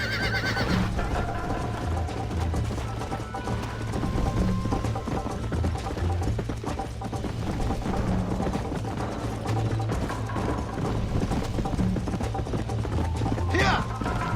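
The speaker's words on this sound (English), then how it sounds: "I think you chose the wrong horse, Miss McFarland" Horse hooves clip-clop steadily in the Red Dead Redemption video game, with a neigh and scattered mechanical clicks over a constant low background, while characters talk over it.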